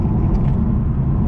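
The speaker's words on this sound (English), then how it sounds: "A lot of road noise coming in," Steady low rumble of road noise inside a 2012 Mitsubishi Eclipse Spider GS convertible while driving, a dense broadband roar filling the cabin at constant loud level with no talking.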